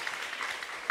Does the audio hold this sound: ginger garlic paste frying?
no